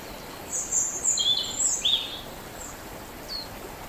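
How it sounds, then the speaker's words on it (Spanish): Birds sing in a Valdivian forest beside a river, several bright chirping phrases clustered early then thinning out to a lone call, moderately near over a faint hiss of background ambience. "Ahí con el sonido de las aves."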